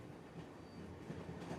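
Faint train sound effect rolling along, a soft steady rumble with light rhythmic clatter of wheels on rails, heard alone beneath a calm bedtime story.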